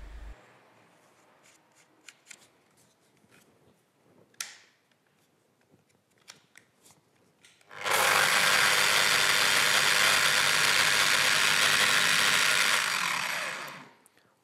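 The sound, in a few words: Festool eccentric sander running, sanding disc in motion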